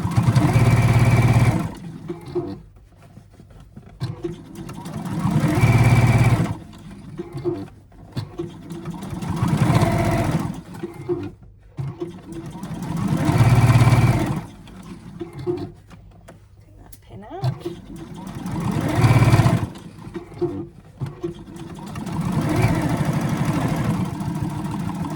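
A sewing machine stitches an Easter bag in several steady whirring runs of a few seconds each, separated by pauses, with someone talking quietly between the runs.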